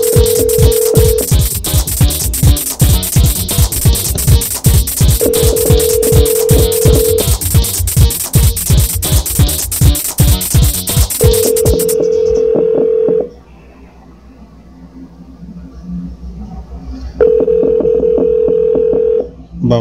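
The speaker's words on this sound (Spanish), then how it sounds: "vamos aquí a marcar el celular de Linet Ureña" Phone keypad tones dial a mobile number during a radio broadcast, a rapid run of DTMF beeps with steady tone bursts recurring, then a quieter line buzz before the tone returns.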